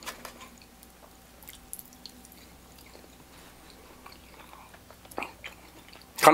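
Chewing on a piece of gobi Manchurian, sweet and spicy fried cauliflower, with soft, close mouth sounds and a few sharper bites near the end.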